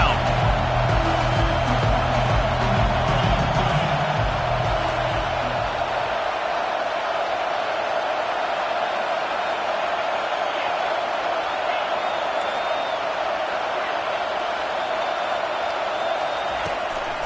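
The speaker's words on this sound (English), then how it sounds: "Decibels rising as the crowd gets behind this defense on 3rd down." Football stadium crowd roaring loudly on third down as the defense takes the field, a dense sustained wall of cheering that holds steady throughout, with a low rumble and faint commentary early on.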